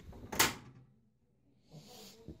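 An oven door clunks open with a short bright rattle, then quiet, followed by a softer thud and shuffle of movement nearby.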